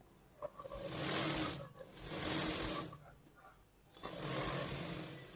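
Sewing machine stitching along the edge of a blouse lining, running in three steady motorized bursts with short pauses between, close and clear.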